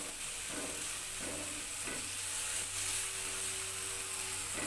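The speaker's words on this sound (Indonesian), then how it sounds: "Tumis bumbu hingga matang dan harus benar-benar matang supaya enggak langu." Ground spice paste sautés in a pan with a constant close sizzle and hiss, with a few soft stirring scrapes near the start.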